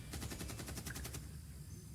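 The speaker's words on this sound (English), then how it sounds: "They're shooting at this guy." Rapid automatic gunfire from the Vietnam War game Combat Actions: Vietnam, a tight burst of evenly spaced shots lasting about a second before falling away to quiet background.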